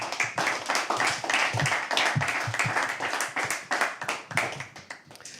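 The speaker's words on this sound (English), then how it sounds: "Can we have another round of applause?" Another round of applause from the audience at a live poetry open mic at The Habitat, a steady wash of many hands clapping that carries on for several seconds and tapers slightly at the end.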